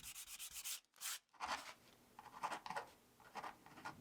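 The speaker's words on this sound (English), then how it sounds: "A quick signature inside the sound hole" A pen scratches a quick signature inside the sound hole of a handmade wooden Aeolian harp, giving soft, close rubbing strokes in short bursts with a brief pause near the start.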